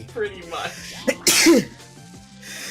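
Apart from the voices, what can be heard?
sneeze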